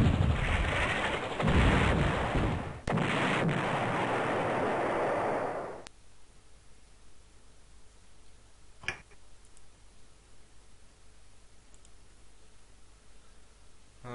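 Artillery attack in the turn-based strategy game Panzer General: a dense, loud rumbling barrage roars for about six seconds and then cuts off, leaving quiet with a single sharp click later.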